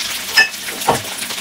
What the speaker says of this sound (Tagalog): mag-saute na tayo. Lagyan na natin siya ng onion at saka sibuyas.